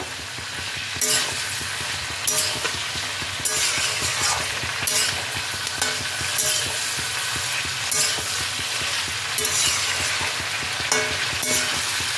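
Mixed vegetables with cabbage stir-frying in a pan, a steady close sizzle broken by repeated scraping and clinking stirs from a spoon against the pan.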